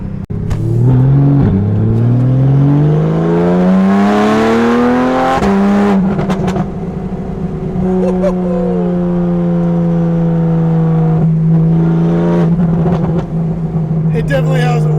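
Straight-piped Porsche 911 with a 3.8L engine revs hard and loud close by, climbing and falling through long sweeping pitches with sharp pops and crackles between pulls.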